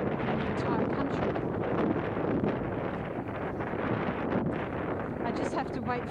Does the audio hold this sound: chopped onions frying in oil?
no